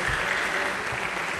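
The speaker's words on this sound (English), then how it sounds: "Let's give another warm round of applause to our wonderful narrators, Paula Giacomo, Larry Pugliese" A theatre audience gives a sustained round of applause for the narrators of a swinging jazz Nutcracker Suite show, a dense, steady wash of clapping filling the hall.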